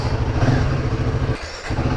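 A Royal Enfield Himalayan 450 motorcycle on the move gives a loud, steady engine rumble that dips briefly near the end, with no talking.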